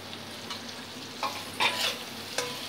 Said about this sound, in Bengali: ফ্লেমটা একদম লোয়ে রেখে এটা মশলাটা ভেজে নেব।